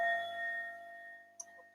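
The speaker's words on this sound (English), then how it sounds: "I'll just sound the bell when 1 minute is up on each round" A bell struck to end a breathing exercise round rings out with a clear sustained metallic tone that slowly decays, followed by a brief faint tap near the end, heard alone.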